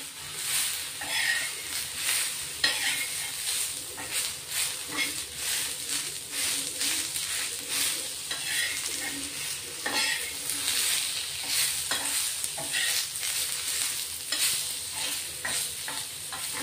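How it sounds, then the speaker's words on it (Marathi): A large tomato stirred and fried into chicken gravy masala in a pan, giving a steady close sizzle with a spoon scraping and stirring throughout, no talking over it. "एक मोठा टोमॅटो घेतलाय, तोही आपण याच्यात थोडा परतून घेणार आहे."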